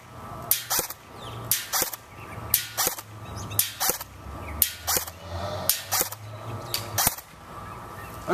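Shots from an M4-style airsoft build with new hop-up parts crack out in a steady series, about a dozen sharp close snaps spaced under a second apart, with no talk.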